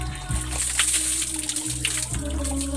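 Water pours and splashes over hair during washing, a close, continuous sloshing rush with splatters, over a low steady hum.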